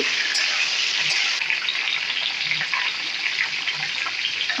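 Mustard mango pickle being stirred in a pan gives off a steady, fairly loud sizzling hiss with faint scraping underneath, unbroken from start to end.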